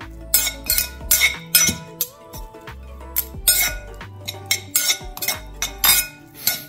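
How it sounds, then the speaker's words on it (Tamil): Spoons clink and scrape against a bowl as a pomelo fruit salad with dressing is tossed together, a close series of irregular sharp taps and knocks with short pauses between them. "எல்லாத்தையும் நல்லா கலந்து விட்டுக்கோங்க."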